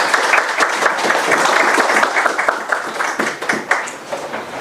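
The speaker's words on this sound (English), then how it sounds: "Let's give big applause to him." Seminar audience applauding a speaker after his introduction, dense steady clapping that fills the room, close and loud, then tapering slightly toward the end.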